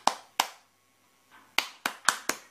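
A child claps their hands in a few sharp, separate claps: two at the start, a short pause, then four more in quick, uneven succession, close and clear in an otherwise quiet room.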